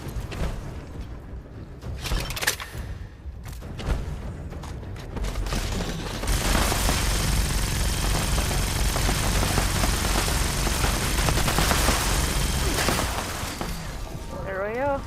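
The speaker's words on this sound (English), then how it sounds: "And here's the bloody Gatling blast." Gatling plasma gun from Fallout 76 firing in a steady, unbroken roar that grows loud after a few sharp bursts and holds for several seconds, with voices faintly underneath.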